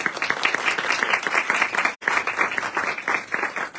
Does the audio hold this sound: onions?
no